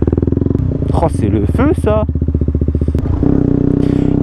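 A motorcycle engine idles with a rapid, pulsing throb, loud and close, held steady rather than revved, while someone speaks briefly over it partway through.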